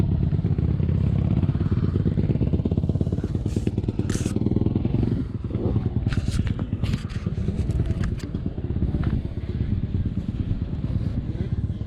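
A revving 2008 Suzuki RM125 two-stroke dirt bike engine, loud and close, buzzing continuously with rattles and clunks while the bike rides.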